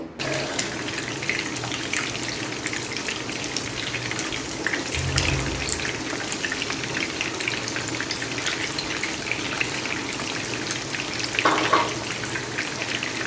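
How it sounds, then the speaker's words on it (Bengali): Beef kofta made from 250 g of minced beef, thirteen pieces, shallow-fried in a little oil, gives a steady, close sizzle and crackle throughout, with no voices. "এখন এগুলো হালকা মানে অল্প তেলে ভেজে নিব"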